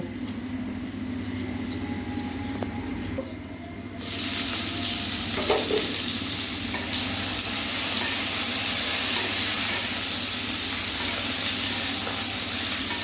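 Raw green mango pieces frying in a pan for chutney, a loud, close, continuous sizzle that steps up sharply in intensity partway through and then holds steady with a faint low hum underneath.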